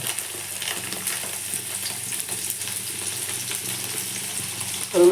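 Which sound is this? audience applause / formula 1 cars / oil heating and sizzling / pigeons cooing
oil heating and sizzling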